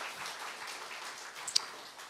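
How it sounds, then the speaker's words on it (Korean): A church congregation claps for a young man back from military service, a soft, even patter of many hands at moderate distance with one sharper clap near the end. "우리 박수 한번 쳐줄까요?"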